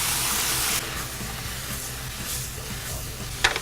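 Shrimp go back into a hot pan of mushrooms in a blackened pepper shrimp stir-fry, setting off a brief loud sizzle that settles into a steady quieter hiss, with a light scrape or clink near the end.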